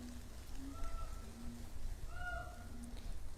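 A cougar gives drawn-out, low yowling calls in a few separate bursts against a faint, hissy background.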